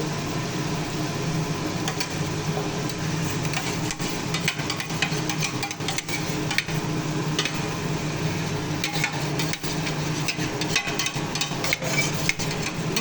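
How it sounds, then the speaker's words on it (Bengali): Yogurt-marinated fish (katla) gently frying in a spice masala in a pan, a steady close sizzle with scattered crackles and occasional utensil scrapes and knocks, no talking. "মিষ্টি দই দিয়ে মেখে রাখা মাছগুলোকে আস্তে আস্তে এই মশলার উপর ছেড়ে দেবো।"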